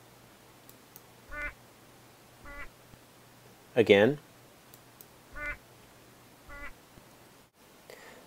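Zebra finch song, slowed to half speed, comes as short harmonic calls repeated roughly every second or so, with one louder, longer sweeping note in the middle over a quiet hiss. A voice speaks briefly.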